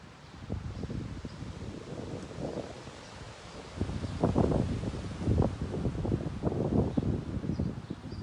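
Steady wind gusts rumble and buffet the microphone in a park, with rustling leaves swelling louder in the second half.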